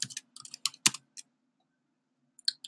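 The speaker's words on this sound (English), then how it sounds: "So here I'll type steel making." Computer keyboard typing, a quick burst of crisp close key clicks in uneven rhythm, a short pause, then a couple of final taps.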